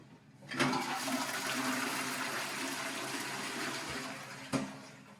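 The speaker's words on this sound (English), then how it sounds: "So we'll just check it flushes." A ceramic toilet with a newly replaced inlet valve flushes with a loud rushing gush of water that holds steady for several seconds, then ends with a clunk.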